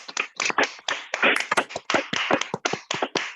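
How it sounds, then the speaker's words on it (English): Scattered applause from participants clapping remotely over a Zoom meeting, many separate hand claps in uneven rhythm over a few seconds, fairly close and lively, with no talking. "que tout le monde, d'un seul coup, maintenant, se mette à applaudir Thomas à distance"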